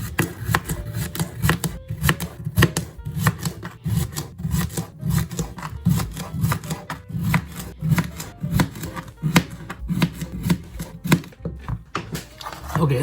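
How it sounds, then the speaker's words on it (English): A steak knife cuts a cucumber into quarter-circle pieces on a board, giving a long run of close, rhythmic chopping knocks and scrapes that repeat steadily at a moderate pace. "Use this steak knife to cut the cucumber."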